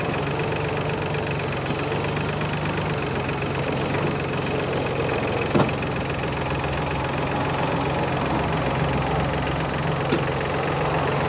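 A Solis 26 mini tractor engine runs steadily at idle with a constant low hum and faint knocking, while its front loader hydraulics lift smoothly; a brief clank near the middle.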